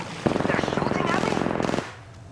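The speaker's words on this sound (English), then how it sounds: "They're shooting at me?" Rapid automatic gunfire in the battle-royale video game Apex Legends, a dense burst of evenly spaced shots lasting about a second and a half, loud and close, then cutting off.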